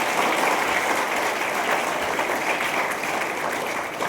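An audience claps at a student and parent gathering at a college, a dense, sustained round of applause that fades slightly toward the end.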